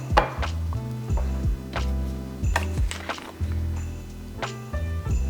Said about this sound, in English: Process again, let it all mix.